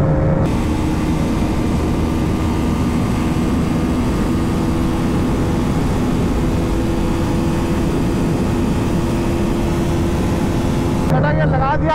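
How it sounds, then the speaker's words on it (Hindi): A Honda CBR 250R motorcycle runs flat out at top speed in sixth gear during a drag race, its engine drone steady and loud under a constant roar of wind blast, with a rider talking over it. "सीबीआर काफी तेजी से भाग रही है, विंड ब्लास्ट काफी लग रहा है वैसे तो"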